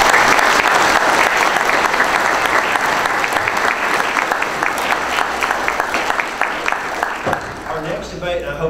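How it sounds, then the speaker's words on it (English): Audience at a county sheriff's candidate debate applauding the candidates, a dense sustained round of clapping that gradually thins and fades, with a voice speaking as it ends. "just give them a round of applause"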